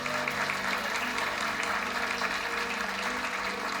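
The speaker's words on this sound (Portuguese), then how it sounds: "Uma salva de palmas para o William." A church audience applauds for baby William, with a steady wash of distant clapping that holds at an even level throughout, alongside a faint background hum.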